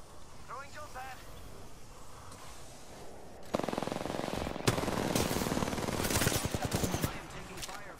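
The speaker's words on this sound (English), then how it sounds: "I am taking fire, friends." Gunfire rattles in a shooter video game, rapid automatic bursts starting partway through and growing denser and louder near the end, with a player talking over the earlier ambience.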